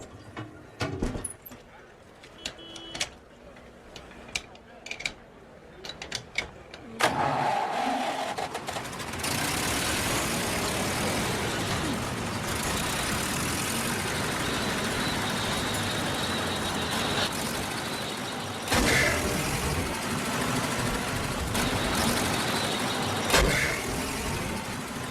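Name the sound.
car engine being started and running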